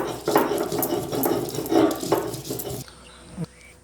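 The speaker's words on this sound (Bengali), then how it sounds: "এটাকে আমি এখন শিলে বেটে নেব" Soaked taro is ground fine on a flat grinding stone (shil), giving rhythmic, gritty scraping strokes close by that stop abruptly near the end, leaving a faint quiet tail.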